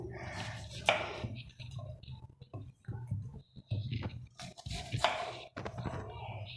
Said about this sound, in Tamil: அவர் எனக்கு ஒரு உதவியாக வந்து இந்த கீரைகளை மட்டும் அரிஞ்சு கொடுக்குறாரு